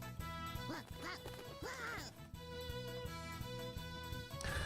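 A duck quacks several times in quick succession in a visual novel game, over steady background music with soft piano-like tones.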